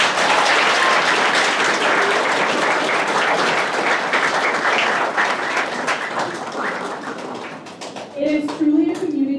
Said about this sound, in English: please give a big round of applause for all of the support from your teachers